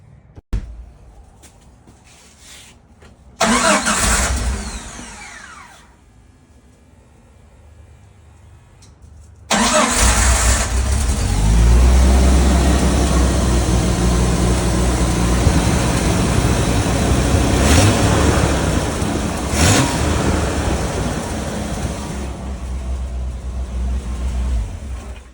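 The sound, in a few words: 1989 Jeep Wrangler engine running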